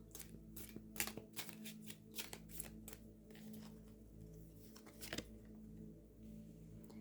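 A tarot deck that is stiff and reluctant to shuffle is shuffled repeatedly up close, crisp riffling bursts in quick succession followed by a quieter stretch and one more snap.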